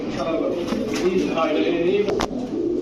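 High-flyer pigeons coo softly and repeatedly close by at a pigeon farm, with flapping and rustling mixed in and a voice talking over them.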